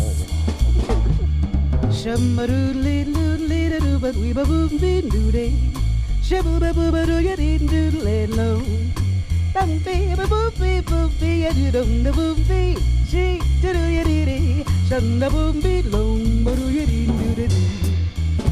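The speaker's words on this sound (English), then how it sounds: "That is scat." A voice scat-sings a quick run of improvised nonsense syllables over a steady bass-heavy backing, loud and continuous throughout.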